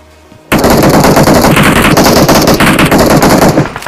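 Rapid automatic gunfire in the mobile shooter PUBG Mobile, a loud sustained burst of shots starting abruptly and running continuously for several seconds.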